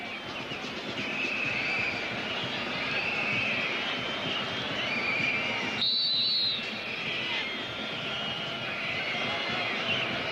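A referee's whistle sounds briefly in the middle of a Brazil vs Peru Copa America 1997 football match, cutting through steady, loud crowd noise from the stadium.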